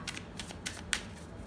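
Tarot cards are shuffled and handled at close range, giving a few quick, soft riffling flicks in short bursts against quiet background, with no talking.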